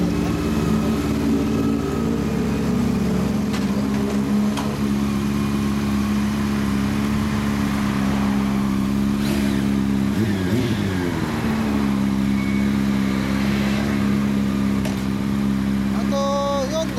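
A Yamaha XSR900 motorcycle engine idles steadily and loud nearby, with a brief rev midway before settling back to a constant rumble.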